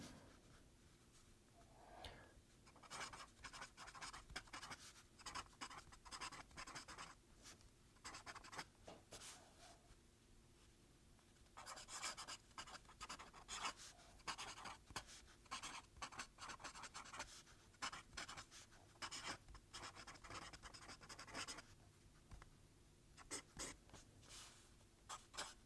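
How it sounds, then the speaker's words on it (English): A pen or pencil scratches across paper while writing notes in a page margin, very quiet and close, in bursts of scribbling separated by short pauses. "I'm marking my margin here"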